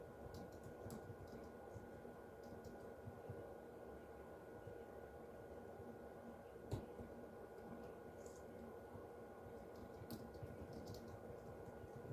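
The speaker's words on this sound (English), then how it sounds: "right now I'd like to type something" Typing on an Apple iMac G3 keyboard, faint, quick keystrokes clicking at an uneven pace under a steady background hiss, with one sharper tap midway.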